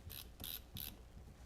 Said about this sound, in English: It also cocks the shutter and advances the shutter, the frame counter.